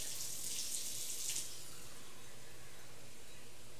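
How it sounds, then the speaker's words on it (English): Roughly two cups of water pour into a cooking pot, a soft hissing stream for about a second and a half before stopping, leaving quiet room tone. "So I'm just gonna put 2 cups of water in here, just about"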